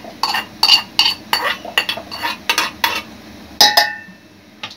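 Fried masala is scraped from a pan into a grinder jar with a metal spoon, giving a run of sharp, close, loud clinks and scrapes in an uneven rhythm, with one ringing metallic knock near the end.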